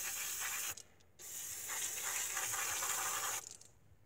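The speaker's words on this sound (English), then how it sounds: "You can spray it right to the rag and kind of give it a wipe like that." A rag rubs Auto Bright leather and vinyl protectant onto a car's interior surfaces, giving two long, close, breathy wiping strokes separated by short pauses, with no talking.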